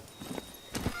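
Roach, a horse in The Witcher 3, clip-clops with a few soft hoof falls at a walking pace, close by and quiet over a low game ambience.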